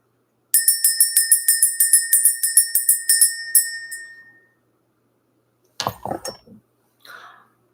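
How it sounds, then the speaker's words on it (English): A small metal bell rings about twenty times in a fast, even series of bright, ringing strikes that fade away. A brief shuffling clatter and a faint soft knock follow after a pause. "Let's ring this bell"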